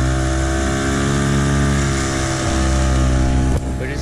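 Hangkai 6hp outboard motor running just above idle on the water, a loud, steady droning hum with a strong buzzing tone that holds even throughout, dipping briefly near the end.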